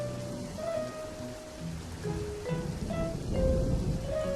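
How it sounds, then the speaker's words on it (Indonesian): Heavy rain pours down steadily, a dense continuous wash of drops with faint tonal music underneath and no voices. "Sayangnya, hujan semakin deras."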